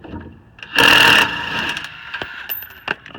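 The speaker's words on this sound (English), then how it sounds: "I'm just taking a regular 12, putting it on the impact. I'm just going to back this thing right on out." An impact wrench fitted with a regular 12 socket backs a rear brake bracket bolt out of a 2010-2015 Kia Optima. It gives one loud, rattling half-second burst, followed by a few faint clicks and ticks.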